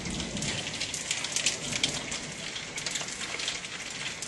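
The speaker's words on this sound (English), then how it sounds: "There was hail. Sounded like popcorn in here." Hail rattles dense and fast against a radio station window during a storm, a loud continuous popping patter like popcorn with no voices.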